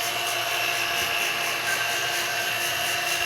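A vacuum pump runs steadily during an air conditioner installation, a continuous loud whining drone with a dense high buzz that holds constant throughout, with no pauses or voices.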